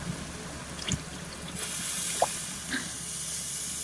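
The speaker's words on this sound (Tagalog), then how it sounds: "Tubig!" Water is poured into a cooking pan while pancit palabok sauce is being made, a rising hiss and splash that builds midway and continues steadily, with light drips and clinks at close range.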